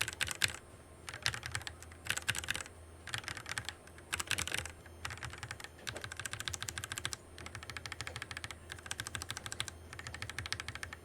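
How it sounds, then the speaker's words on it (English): Steady bursts of mechanical keyboard typing on a budget LTC Nimbleback LT681 board with stock keycaps, comparing stock switches against lubed and filmed Tangerine switches; close, clacky keystrokes in rapid runs separated by short pauses, no talking. "here's a quick comparison of the stock switches compared to the lubed and filmed Tangerine switches using the stock keycaps"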